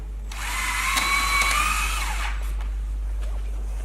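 A power drill drives a screw into a panel, one steady whirring run of about two seconds with a slight pitch sag near the end, then quiet room tone.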